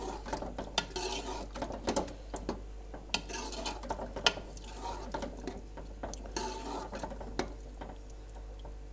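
Minced meat keema roasts in a pan while being stirred, a low steady hum under a busy run of scraping and tapping spatula strokes, close and quiet, without speech.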